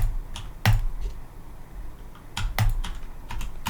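A computer keyboard and mouse during UE4 material editing: two sharp, loud clicks stand out among a few lighter key taps, heard up close with no speech.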